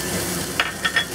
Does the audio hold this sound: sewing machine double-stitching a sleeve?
no